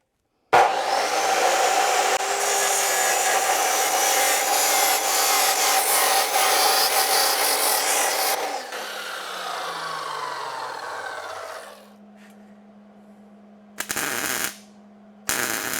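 A power tool cuts steel for a Model A hot rod body jig built from an old frame, a loud grinding rasp for about eight seconds that winds down into a fading whir, followed by brief bursts of clattering and a low hum.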